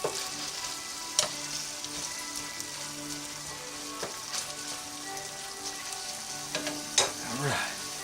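Spaghetti sauce for lasagna simmers and spatters in a pan over the fire, a continuous rain-like crackle and sizzle with a few louder pops and scrapes from stirring.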